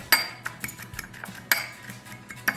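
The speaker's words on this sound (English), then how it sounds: "we're just gonna mix that together" Metal utensil clinking and scraping against a bowl while black pepper and brown sugar seasoning is mixed for air fryer pork chops; several sharp close taps at an uneven rhythm, with no talk.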